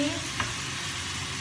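Tomato paste and wine being stirred together in a hot pan, with a steady close sizzle of frying under a single scrape of the spoon, no talking.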